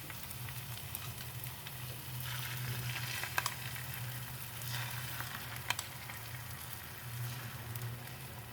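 Eggs fry in a pan on top of crispy rice cakes, a soft, continuous sizzle and crackle with a few sharp spits and pops, fairly quiet and alone.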